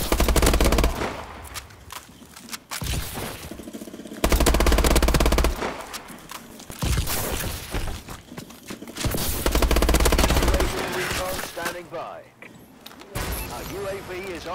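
Gunfire in the multiplayer shooter Call of Duty Advanced Warfare, loud bursts of rapid automatic fire alternating with quieter gaps and single shots, while a player talks over parts of the action.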